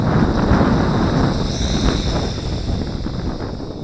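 Gusty wind of about 10 mph rumbling and buffeting the microphone outdoors while a WLToys V636 Skylark quadcopter flies, its faint high motor whine riding above the steady roar.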